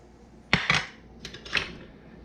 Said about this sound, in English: Going to mix that together